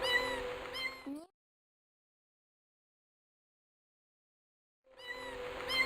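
A voice imitates a cat, giving drawn-out meows at the start and end with a long stretch of silence between them.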